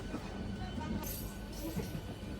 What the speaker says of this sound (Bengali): প্রতি মিনিটে মিনিটেই নতুন নতুন ট্রেন হাওড়ার দিকে ঢুকছে, কোনো ট্রেন আবার হাওড়া থেকে বের হয়ে যাচ্ছে